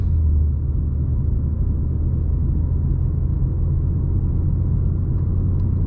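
A 2024 G87 BMW M2 under hard acceleration gives a steady, loud, low engine and road rumble that holds without a break for about six seconds, with no talk over it.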